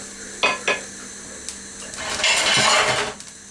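A metal cooking pot for okro bitter leaf soup clinks twice as its lid is handled, followed by a brief rattle and scraping clatter of the lid settling on top.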